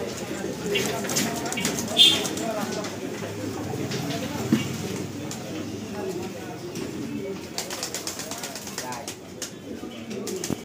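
Chocolate racer pigeons coo in a low, repeated murmur close by, while people talk over them.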